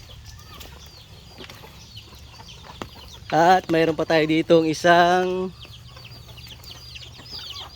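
A brooding hen clucks in a short burst of throaty calls, close by in a hut, after a quiet stretch; a person speaks softly nearby.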